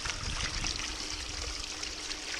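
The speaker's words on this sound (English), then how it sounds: "Take some water, rinse the bottom of the bucket" Water pours and trickles into the bottom of a bucket as it is rinsed out, a steady close splashing stream with no talk.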